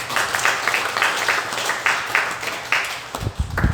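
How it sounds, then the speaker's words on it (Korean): Congregation applauding in a church service, a steady wash of many hands clapping with a fairly dense, even texture, and a few low thumps near the end. "박수로 감사합니다"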